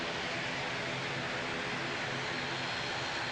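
Propeller airplanes at Christchurch Airport, New Zealand, at sunset, a steady broadband engine roar that holds at an even level throughout, with no voices.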